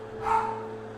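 A single short dog bark, fairly close and clear, rises and fades within a second over a low steady hum.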